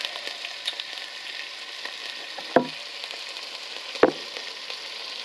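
Beef for stroganoff frying in a hot pan gives a steady, close hiss of sizzling, broken by two sharp clacks of a utensil against the pan.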